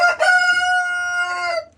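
A rooster kept with Australorp and Adler hens in a poultry coop lets out one loud, close crow that rises sharply, holds, then trails off, with no talking.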